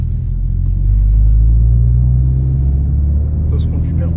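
A car driven in normal mode gives a loud, steady low engine rumble from inside the cabin, with a faint high whine and a brief clatter near the end.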